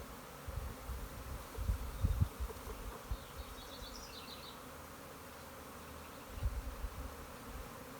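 A swarm of honeybees fanning outdoors, a steady faint insect hum with occasional low rumbles and thumps, no talking.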